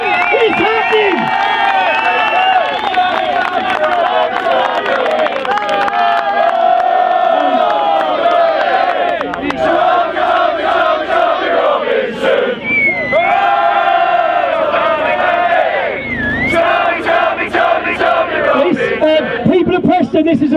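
A large crowd at a Tommy Robinson campaign rally in Preston cheers, chants and whoops loudly and continuously, the crowd noise close and dense throughout.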